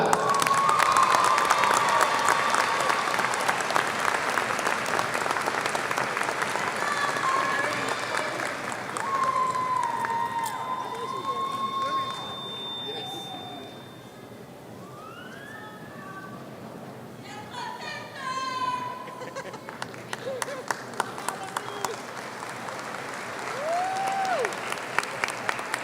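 A high school graduation ceremony audience applauds and cheers in a large venue, the clapping dipping midway and swelling again while voices and shouts rise through the crowd.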